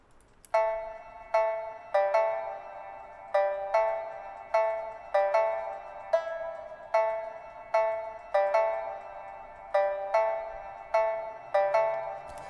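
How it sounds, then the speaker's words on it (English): Plucked pipa (Chinese lute) notes ring out alone, bright and clear, in an unhurried melodic sequence, each note decaying quickly before the next. "This is the sound of the Pipa on its own."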